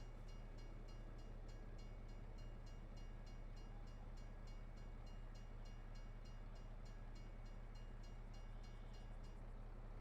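A train with boxcars rolling past in the Farming Simulator 22 video game, a constant low rumble with rhythmic clacking of wheels over rail joints, steady and fairly quiet throughout.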